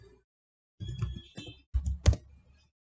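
Quick bursts of keystrokes on a computer keyboard in a quiet room, a few short clusters of clicks separated by pauses.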